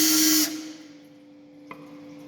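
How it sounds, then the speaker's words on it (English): Drill running at low speed with a countersink on steel, a short bright grinding burst that stops abruptly, leaving a fading motor hum and a small click near the end. "So get a countersink on low speed."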